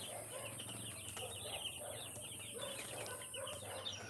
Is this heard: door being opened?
no